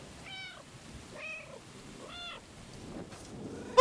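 A cat meows three times in a slow, evenly spaced series inside the video game Stray, each call clear and mid-loud over a quiet background, followed by a faint scuffle and a sharp click at the end.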